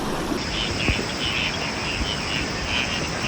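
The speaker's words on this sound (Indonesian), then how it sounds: "suara jangkrik, suara belalang sangat dominan" Crickets and grasshoppers chirp in a steady pulsing chorus beside the Bontar river near Magelang at night, with soft running water and faint frogs in the background.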